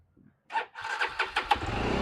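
A motorbike engine cranks and catches while a beginner rider practises, a short starter burst followed by a rising, steady running engine with small throttle surges, close and fairly loud.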